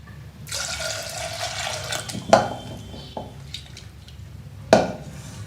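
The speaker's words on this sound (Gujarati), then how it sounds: "હવે તેમાં આપણે પાણી ઉમેરીશું" Water pours steadily into a pot of dal for a couple of seconds, interrupted by two sharp clanks of metal, with a short trickle between them.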